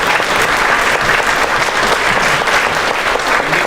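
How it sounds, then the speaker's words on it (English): Loud, dense applause from a conference audience after a leadership event panel, steady and sustained throughout with no pauses or voices on top. "Big round of applause for the panel."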